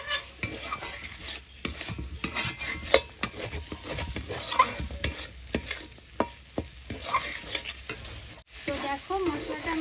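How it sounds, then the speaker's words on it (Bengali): Melon seeds and cashews are stirred and fried in a thick masala in a kadai, with an irregular scraping of a spatula against the pan over a continuous close sizzle. "মগজ আর কাজুটাও আমি 2 থেকে 3 মিনিট কষিয়ে নেব"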